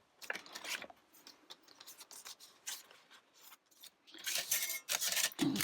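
Scissors cutting flower stems, with a series of short crisp snips and rustles at an irregular pace that turn louder and denser toward the end, close up with no talking.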